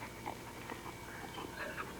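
A 2-year-old Malamute Shepherd mix pants and lets out soft whimpers at close range, faint against a steady background hum.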